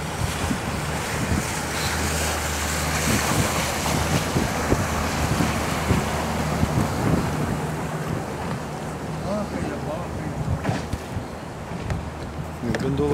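Gondola gliding along Venice's Grand Canal, with steady broadband water wash, lapping waves and wind buffeting the microphone throughout, plus a low engine-like hum from passing boats.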